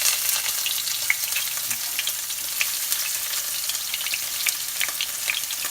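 Onion fries in a pan for brisket tacos, giving a steady, dense sizzle and crackle with occasional light stirring, close and continuous throughout.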